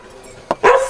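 A dog gives a short sharp yip followed by a louder bark close by, two quick bursts against near silence.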